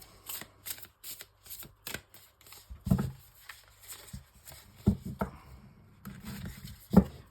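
Tarot cards shuffled by hand, a series of crisp riffling and tapping bursts with a soft rhythmic patter, close and fairly quiet, with no talking.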